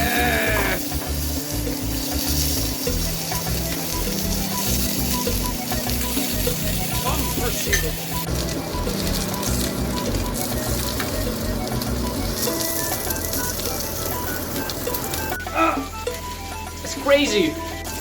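An Italian steak searing over a fire, fat hissing and crackling in a loud, steady sizzle close up, with someone speaking at times over it and a brief shift in tone near the end.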